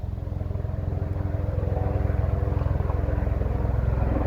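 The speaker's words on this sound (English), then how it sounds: "That's a DeVos helicopter you hear." A helicopter passes overhead outdoors near Norway spruce trees. Its steady, pulsing rotor drone builds gradually, holding a loud, rhythmic low thrum throughout with no talking.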